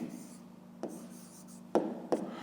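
Pen on paper writes a short answer to a fifth-grade math exercise, soft scratching strokes broken by a few sharper taps, quiet and close.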